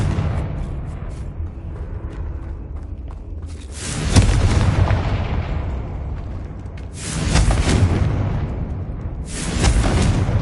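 Fiery blasts from the Confringo spell in Hogwarts Legacy, three loud booming bursts with rumbling tails at spaced intervals over a low background bed.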